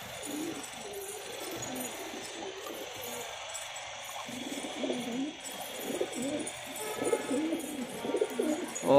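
Pigeons coo softly and repeatedly at a moderate distance, with faint background hiss and a little rustling.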